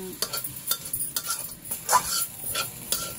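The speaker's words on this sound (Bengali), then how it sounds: "এখন ভালো করে নাড়তে হবে খুন্তির সাহায্যে" A spatula stirs drumstick leaves in a pan, giving soft scraping and rustling strokes with a few light clinks and a faint sizzle, close by and alone without any voices.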